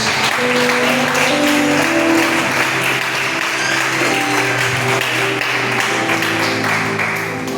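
Sustained, dense applause from a church congregation fills the space loudly and evenly, with steady held tones from music or voices running beneath the clapping throughout.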